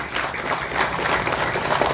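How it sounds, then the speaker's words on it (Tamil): Applause for an actress at a Tamil film audio launch, a moderate, continuous patter of clapping from a gathered crowd, fairly soft and even throughout. "அதற்கு ஒரு பெரிய கைத்தட்டல் பேபிக்கு"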